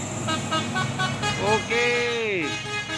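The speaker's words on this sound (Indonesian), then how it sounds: "Full telolet truk soren." Musical telolet horn on a truck hauling oil palm fruit, playing a quick run of short toots that rise into a longer swooping melodic blast, loud and close amid roadside noise.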